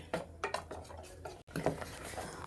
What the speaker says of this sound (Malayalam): അപ്പം ചൂടാനുള്ള ചട്ടി ഞാൻ അടപ്പത്ത് വെച്ചിട്ടുണ്ട്